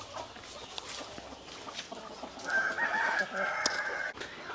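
Country chickens cluck and call together inside a chicken shed, a rooster-like crow rising partway through, over a low background murmur.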